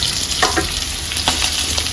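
A nivate (mudskipper) fish curry in the Agri style bubbles and sizzles in a pan over high heat. It makes a continuous close hiss with a few soft pops and stirring scrapes, and it ends abruptly.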